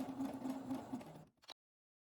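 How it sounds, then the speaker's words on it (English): Sewing machine stitching a straight seam 5 mm from the edge through fabric pieces of a goose lovey toy: a close, steady whir for just over a second, then it slows and stops with a couple of clicks. "Sew a straight line 5 mm or 3/16 of an inch from the edge."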